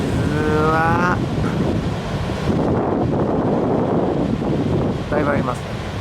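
Rough ocean surf pounds at Sendai New Port as a typhoon passes, with a dense roar of breaking waves and wind buffeting the microphone, while someone talks over it.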